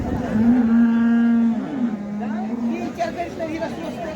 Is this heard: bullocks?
yes